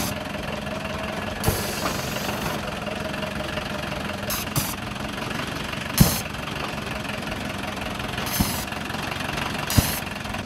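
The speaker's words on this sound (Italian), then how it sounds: "lui è fatto con un motore di Volkswagen Golf, diesel" A Volkswagen Golf diesel engine runs steadily inside a steampunk robot, a continuous close idling rumble with periodic sharp knocks and clanks.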